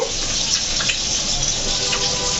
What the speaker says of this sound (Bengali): কিন্তু এই যে পুঁটি মাছ ভাজি হচ্ছে